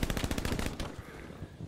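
Machine-gun fire in the World War II shooter Hell Let Loose: a fast, rattling burst of shots for under a second, fairly faint, then a short fading tail.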